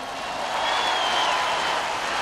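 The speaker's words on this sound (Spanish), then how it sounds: "Yolito y su combo recibe el aplauso de la Quinta Vergara" A festival audience at Quinta Vergara in Viña del Mar gives sustained applause for Giolito y su Combo, a steady, dense wash of clapping that holds at an even level throughout.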